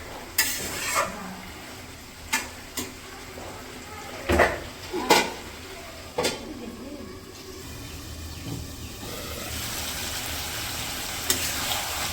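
Fried fish being sautéed in a pan with vegetables: a low, continuous sizzle broken by several sharp scrapes and clanks of a spatula against the pan, with the frying growing steadier toward the end.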